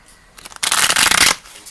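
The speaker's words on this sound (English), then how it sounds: "you shuffle and shuffle and they don't bend." Linen-finish oracle cards from the Voice of the Stones deck are shuffled by hand, a soft riffle followed by a loud, dense burst of rapid card flutter about a second long, close up.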